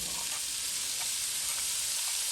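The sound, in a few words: chopped green seasoning frying in oil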